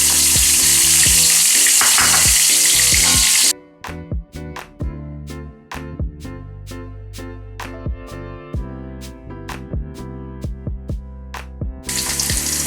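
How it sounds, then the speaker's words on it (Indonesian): Shallots sauté in hot oil for a sambal to go with fried tilapia, giving a loud, steady sizzle at the start. A stretch of regular clicking and tapping follows before the frying sizzle returns at the end. "Sekarang aku mau numis bawang merahnya tadi."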